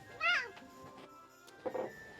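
A pet cat meows once loudly with a rising, wavering call, then gives a shorter, softer meow a moment later, close to the listener in a quiet room.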